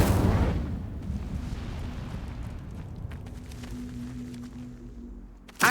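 A fire spell bursts with a loud whoosh in Hogwarts Legacy, then a long rumbling roar of flames fades gradually before a second sharp pop at the end.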